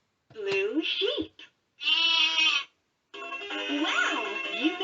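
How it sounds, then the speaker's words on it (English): A LeapFrog Fridge Farm toy plays a sheep bleating sound, a loud close wavering bleat repeated in three bursts, with a brief voice at the start. "Hear a sheep sound."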